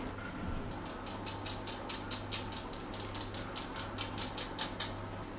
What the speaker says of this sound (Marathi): आता ह्यो मैदो चाळून घेते